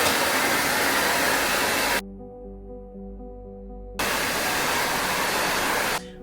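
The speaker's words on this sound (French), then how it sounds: "je vais me sécher les cheveux et je reviens." A hair dryer blows on washed sisterlocs in a loud, steady rush of air that cuts out briefly to a low hum, then roars back on before stopping again near the end.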